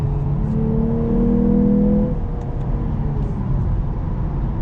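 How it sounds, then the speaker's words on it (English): A 2024 Lexus IS 350 F-Sport engine blips sharply on a downshift, with a rising rev tone that holds for about a second before settling back into a steady, close cabin drone. "Downshift again."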